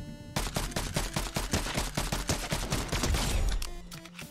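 Rapid automatic gunfire in a shooter video game rattles out as one long, loud burst of evenly spaced shots lasting a few seconds, then cuts off sharply, with no talk over it.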